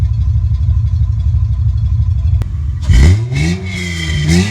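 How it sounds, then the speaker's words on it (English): A lifted 2003 Honda Pilot with a redone custom exhaust idles with a steady low rumble, then revs up sharply and loudly several times, with the pitch climbing and falling close by. "Here's a little video clip of how the exhaust sounds."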